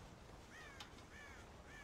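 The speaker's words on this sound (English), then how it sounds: "God damn crows!" Crows caw faintly in Red Dead Redemption near a farm silo, a few distant calls over a steady wind-like ambient hiss.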